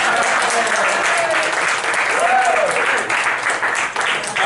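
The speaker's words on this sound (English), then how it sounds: "we'd all give him a special round of applause for being a volunteer" Sustained applause from an audience at a tabletop wargaming narrative event, crowd clapping steadily for a volunteer, dense and fairly close, continuing throughout with faint voices mixed in.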